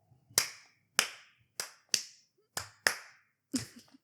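A run of seven sharp hand claps for a sync mark, spaced roughly half a second apart, crisp and close with short decays in an otherwise quiet room.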